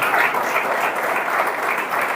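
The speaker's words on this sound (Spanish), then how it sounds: "Denle un aplauso" A church congregation claps steadily in dense, continuous applause, loud and even throughout with no break.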